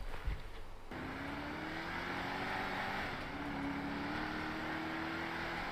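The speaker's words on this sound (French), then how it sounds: "J'ai mon nouveau véhicule, de type citadin." A city car in GTA 5 roleplay drives along, its engine humming steadily and rising in pitch as it accelerates, heard alone at moderate loudness after a short thump at the start.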